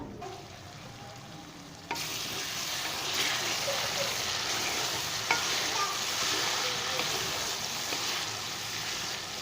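A quiet hiss, then a sudden loud sizzle as water hits a hot oil tempering (tadka), continuing as a steady crackling fizz.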